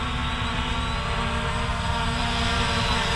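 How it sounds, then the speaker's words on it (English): An SG906 Pro 2 quadcopter drone hovers nearby outdoors, its rotors producing a steady, loud, continuous buzzing whine with a constant pitch and no pauses. "So let's bring the drone into us here."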